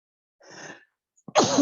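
A single sharp sneeze in a class lecture, preceded by a short breathy intake and a brief pause, loud and close.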